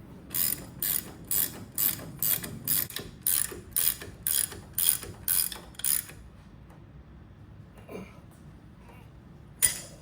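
Ratchet on a Ford F150 lift kit bolt, a steady run of about a dozen crisp, evenly spaced clicking strokes up close, then quiet handling with a couple of faint clinks.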